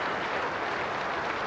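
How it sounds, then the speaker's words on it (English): Super Bowl crowd at a 1986 snooker match giving a standing ovation, a dense, steady wash of applause filling the whole moment at moderate distance. "David Corkill draws a standing ovation from the Super Bowl crowd"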